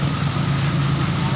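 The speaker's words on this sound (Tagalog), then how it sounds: "lumalakad ang motor tricycle ko na walang kwan" A motor tricycle's engine idles with a steady low rumbling hum, close and even, with a voice briefly audible nearby.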